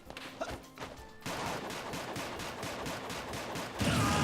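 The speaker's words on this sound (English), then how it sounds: "you can do something like this, a downward spiral gunshot" Joker fires a downward spiral of gunshots in Super Smash Bros. Ultimate, a few sharp clicks and then a dense, sustained crackle of rapid shots ending in a louder burst.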